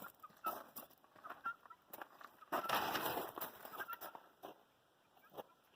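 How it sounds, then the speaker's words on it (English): Guinea fowl walking past in a farm garden, giving scattered clucks and chattering calls, faint to moderate, with brief rustling in between. "we're getting pictures of the guineas as they come by. Curious birds."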